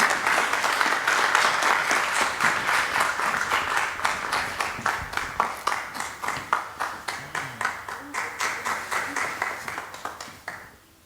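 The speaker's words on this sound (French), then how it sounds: "Je vous prie d'applaudir pour notre héros Michel." An audience applauds, starting as a dense burst of clapping that thins into a looser, more distinct rhythm of separate claps before fading out at the end.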